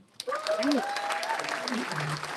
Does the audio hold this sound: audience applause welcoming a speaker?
yes